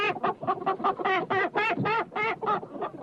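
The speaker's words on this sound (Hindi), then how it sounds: "तभी हीरा देखता है कि जंगल में कुछ मुर्गियां घूम रही थी।" Chickens in a forest clucking and squawking in a quick run of about a dozen close, nasal calls, loud and alone.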